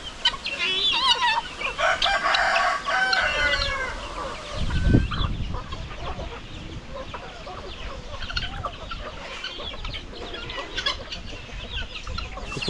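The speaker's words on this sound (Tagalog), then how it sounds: "Kontrol lang natin yung pagdami sa ating mga manok dito." Chickens and roosters kept on a rural Filipino farm cluck and crow close by, with several overlapping calls early on, then scattered clucking and a low thump, fairly loud against the yard's background.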